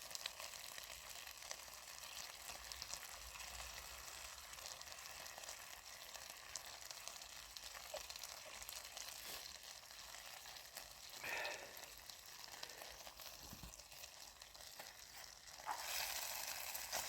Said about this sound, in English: Can the stick man fry an egg with a stick?